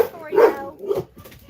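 An excited house dog gives a couple of close, high yipping barks with whiny edges, separated by a short pause, in a quiet home.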